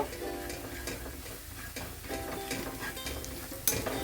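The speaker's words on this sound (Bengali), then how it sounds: "এক চামচ কাশ্মীরি রেড চিলি পাউডার দেব দিলাম দিয়ে এটা একটু নাড়াচাড়া করব" Kashmiri red chili powder is stirred into a frying masala: quiet repeated scraping strokes over a soft sizzle, with a sharp utensil tap near the end.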